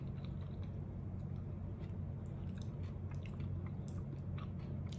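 Someone eating dinner alone, including rice under raw fish, with soft close chewing and occasional crunchy bites over a steady low background hum.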